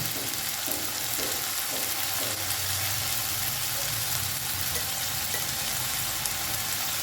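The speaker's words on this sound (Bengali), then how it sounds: "গ্যাসের ফ্লেমটা কিন্তু একদম লোতে রেখে ভালো করে মশলা কষিয়ে নেব" Masala of ginger, garlic and green chili paste frying over a low gas flame for a lote fish curry, producing a steady, even sizzle with faint stirring underneath, continuous and close.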